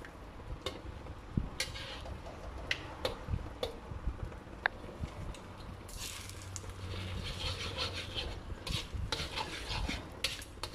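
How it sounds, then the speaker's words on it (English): Six eggs fry in a wok for stir-fried rice noodles, with spatula scraping, clinks and taps against the metal over a light, steady sizzle. "We're going to fry these eggs."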